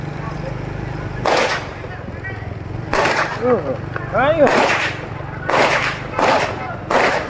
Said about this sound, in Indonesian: Baku tembak polisi dengan kawanan pencuri motor di Jalan Hayam Wuruk